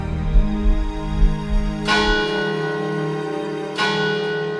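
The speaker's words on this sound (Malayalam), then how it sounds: "ഉടനെ കപ്പ്യാർ മണിയടിക്കുകയും" A church bell rings out two loud, resonant strokes about two seconds apart, each leaving a long, humming decay that rings on between strikes.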